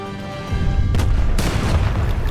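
Cannon fire in Age of Empires 3 booms twice in quick succession, each shot a sharp, heavy crack over a low rumble of battle, with a sustained roar after the second, no voices heard.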